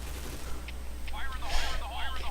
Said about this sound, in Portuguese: Ouço tiros de armas fortes.